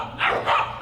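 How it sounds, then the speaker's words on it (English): A dog barks outside in two short, fairly close yaps, heard alone without talk. "there's 3 dogs out there now?"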